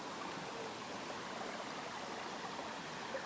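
River water streams steadily through a natural debris dam, a continuous even rushing wash with no breaks or voices, close and moderately quiet.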